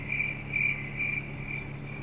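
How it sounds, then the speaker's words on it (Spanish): Crickets chirp in a regular pulsing rhythm, a close, clear stream alert sound effect repeating about twice a second over a quiet low background, with no voices. "Ahí está. Los grillitos."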